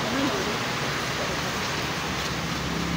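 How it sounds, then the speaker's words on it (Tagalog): Heavy rain pours down outside a cellphone repair shop in Barangay Central, San Jose, Occidental, with flooding nearby, making a steady, dense hiss that fills the whole stretch while voices murmur faintly beneath it. "Yan na naman ang ulan."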